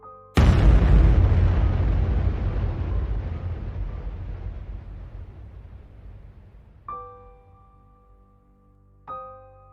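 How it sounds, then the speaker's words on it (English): A huge bomb explosion over South Carolina bursts suddenly and loud, then rumbles and slowly fades over several seconds, followed by two brief ringing tonal stings. "Suddenly, a whistle from the sky and a huge explosion."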